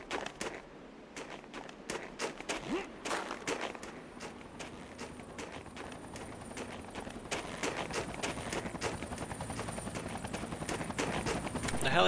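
A video game helicopter's rapid rotor chop pulses steadily in the background, with sharp repeated clicks and thumps of game action layered over it.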